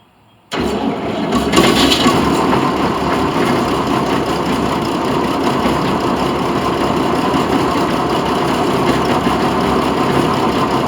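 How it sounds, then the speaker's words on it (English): The engine of a Gleaner K combine harvester catches and starts, then runs at a steady, loud, rough idle close by, with a brief rev near the start and no voices over it. "Well, that ran pretty good. It's running."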